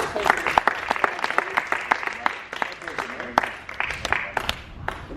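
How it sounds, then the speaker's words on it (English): An audience at a mindset seminar gives a dense round of applause for the guest speaker, sustained for several seconds, with voices and cheers mixed into the clapping. "Give it another clap, guys"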